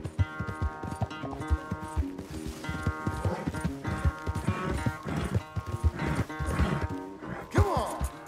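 Rhythmic hoofbeats clip-clop over layered music, with a horse-like rumble under a busy soundtrack, in the video game Red Dead Redemption 2.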